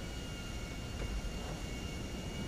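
Steady airplane engine drone in GTA V, a constant, fairly loud mechanical roar with no voices over it.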